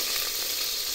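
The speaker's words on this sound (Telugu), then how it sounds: "ఇక ఆవాలు జీలకర్ర తాలింపు వేస్తాను." Mustard and cumin seeds crackling in hot oil for a Telangana uppudu pindi tempering, a brief, dense and loud sizzle, no voices.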